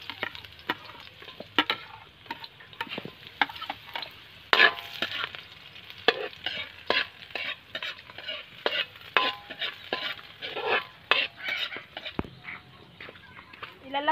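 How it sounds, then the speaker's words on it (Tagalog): Garlic, then onion, dropped into hot cooking oil for adobong kangkung, giving a steady crackling sizzle with repeated sharp stirring scrapes and clatters, close up, with a voice speaking at times over the cooking. "Mainit na po yung mantika. Ilalagay natin yung ahos."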